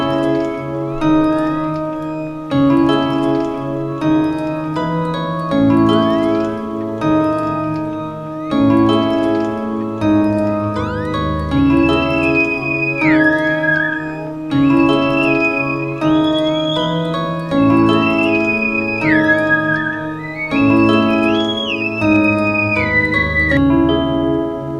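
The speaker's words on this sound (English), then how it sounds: "I'll show you guys what the melody sounds like this without any processing" Dry, unprocessed synthesized melody loop with layered tonal notes, sliding lead pitches and a steady low bass line repeating for about twenty-five seconds, loud and alone with no voices.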